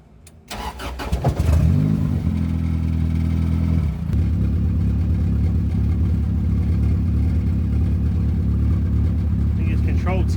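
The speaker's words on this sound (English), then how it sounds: "Now we're gonna go ahead and connect the battery, start the car." A turbocharged Honda Accord cranks and fires up, then settles into a loud, steady idle with a strong low rumble, recorded close to the engine.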